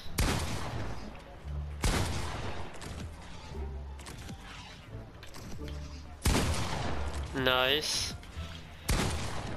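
Gunshots in the Fortnite video game, several loud, sharp blasts spaced a few seconds apart, with a voice talking briefly between them and a short whistling rise near the end.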